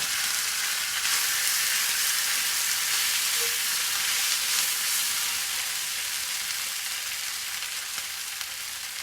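Spaetzle fry with softened onion in a pan over medium heat, giving a continuous, even sizzle close up with no talking.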